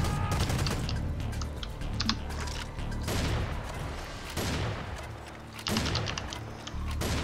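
Rapid, dense gunfire from the video game Serious Sam Fusion rattles continuously in bursts, with short gaps between volleys and no talking over it.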